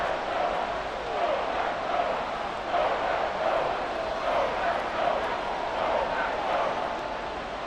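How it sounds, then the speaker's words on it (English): Stadium crowd noise in the Madden 24 football video game, Bears vs Packers, swells in a continuous rolling roar under a commentator's voice. "This crowd turning up the decibel level."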